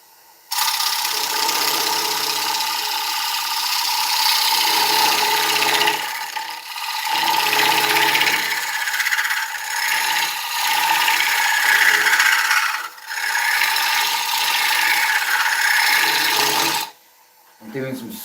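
Scraping cuts on oak spinning on a wood lathe: a loud, continuous rasping and whirring that swells and eases as the tool moves, with brief dips in between passes.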